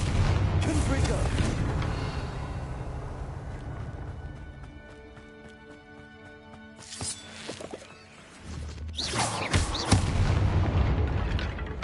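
Confringo fire-spell blasts in Hogwarts Legacy boom loudly in bursts, with a quieter stretch of tonal game effects between them and a final cluster of heavy explosions near the end.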